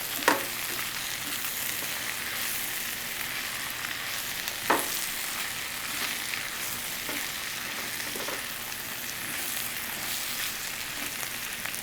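Cajun stir fry being stirred in a hot pan, with a steady, even sizzle throughout and a few sharp utensil scrapes and knocks standing out at irregular moments, no voices.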